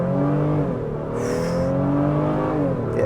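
A 2025 Honda Pilot Elite SUV pulls hard from a standstill, its engine drone climbing steadily and loudly through the gears with a brief whine mixed in, heard from inside the cabin with no talking.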